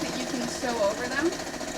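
A sewing machine stitches binding onto a quilt, running with a steady, rapid mechanical whir throughout while a person talks over it.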